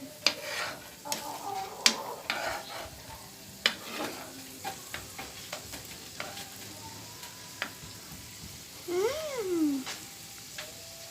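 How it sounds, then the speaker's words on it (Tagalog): A spoon stirs sweet and sour yellowfin tuna in a pan, with repeated sharp clinks of utensil on metal over a soft sizzle, and a brief high-pitched squeal near the end. "Yan guys, haluin lang po natin."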